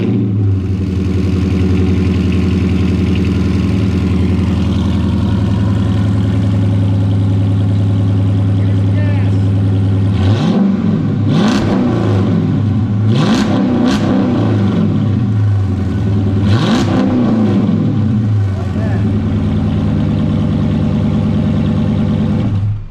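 A Chrysler 300C fitted with an SLP exhaust idles with a deep steady drone, then several revs rise and fall in short bursts near the microphone.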